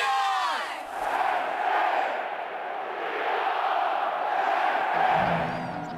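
A huge stadium crowd at Penn State's Beaver Stadium roars a sustained collective chant, loud and continuous with rising and falling waves of voices, no other sound over it.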